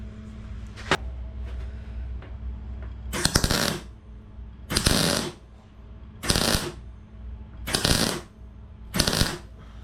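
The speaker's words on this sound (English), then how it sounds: "Just got to pop a bit more weld in there, look." Close-up welding on a mudguard bracket, five loud crackling bursts of roughly a second each at a steady rhythm, separated by short pauses of low background hum.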